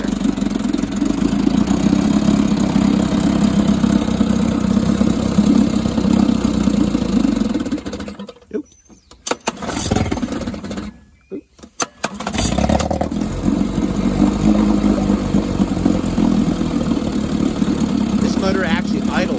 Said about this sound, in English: This motor actually idles very well.